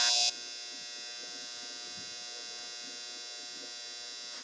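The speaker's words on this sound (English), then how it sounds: "That was the dryer. It makes a noise when it goes off." A clothes dryer's end-of-cycle buzzer drones loudly and continuously for several seconds, a harsh steady electric tone close by with a brief brighter burst at the start.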